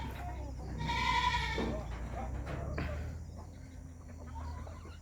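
Chickens and a rooster cluck near their coop on a farm, a loud burst of clucking and calls early on, then softer intermittent fowl sounds continuing close by.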